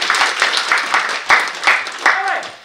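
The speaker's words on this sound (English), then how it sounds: "give our gender champions of 2021 a round of applause once again" Short burst of audience applause at a women's leadership forum, rhythmic clustered claps rising and falling over a few seconds, with a voice speaking over part of it.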